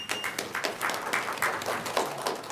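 Audience applause fills a city council meeting in Iowa City, a steady dense patter of many hands clapping at moderate volume for a few seconds, with no voices on top.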